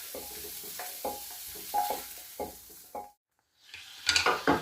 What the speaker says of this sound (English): So while that beef's browning